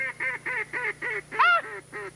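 A duck hunter's call imitating a mallard gives about nine rapid, evenly spaced nasal honking notes, close and fairly loud, with one higher, louder note near the middle.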